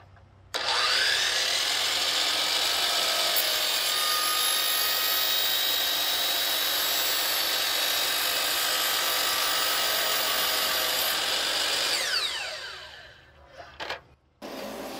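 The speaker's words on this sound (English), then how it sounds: "It powers this saw just fine." A power saw cuts through 3-inch PVC pipe while running on a Growatt inverter. It gives a loud, steady whine for about eleven seconds, then winds down and stops, with no talking.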